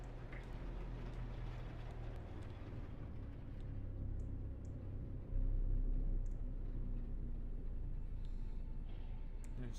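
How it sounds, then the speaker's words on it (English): Storm moving in across an alien planet in No Man's Sky: a steady, dense low rumble of wind and weather that swells louder partway through, with faint scattered clicks above it and no talking. "Weather warning. Incoming storm."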